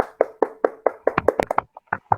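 Classroom students clap in uneven bursts during a microteaching lesson, sharp close hand slaps rising into a scattered flurry before tailing off, with no talk over them.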